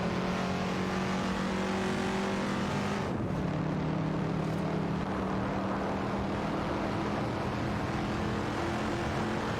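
Race cars in a video game, a 1973 Holden Monaro GTS and a Chevrolet Corvette C2, roar continuously with dense, steady engine noise and a brief pitch shift as one passes, loud and unbroken.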